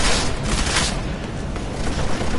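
Sustained gunfire from the video game Deus Ex: Mankind Divided, dense and loud, rattling continuously through the whole moment with heavy low-end booms.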